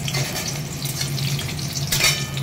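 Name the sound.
frying jackfruit pieces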